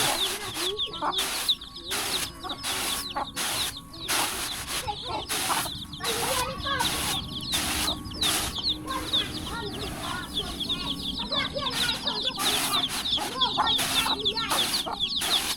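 Chickens cluck and peck busily while being fed in a rural Lao village, many birds close by in a continuous chatter with occasional louder calls.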